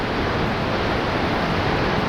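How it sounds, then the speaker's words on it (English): A raging spring waterfall at Cascade Falls beside a canyon roars as a constant, dense, loud wash of white water with no pauses or voices. "Because it's spring, the waterfall is raging."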